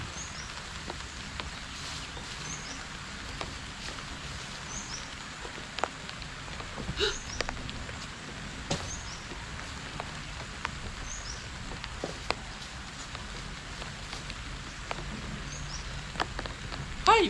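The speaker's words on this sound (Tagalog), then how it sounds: "Lakas ni ulan." Heavy rain pours down steadily outdoors, a dense continuous hiss with scattered sharper drop impacts, heard alone without talk.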